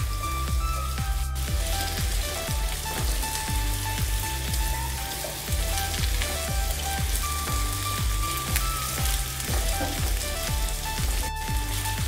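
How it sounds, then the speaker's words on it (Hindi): Taro pieces fry in mustard oil in a pan while being stirred constantly, a steady crackling sizzle with repeated soft scraping strokes throughout. "हम इसको लगातार चलाते रहेंगे जिससे ये जले नहीं, और हमें इसको थोड़ा लाइट ब्राउन होने तक पकाना है।"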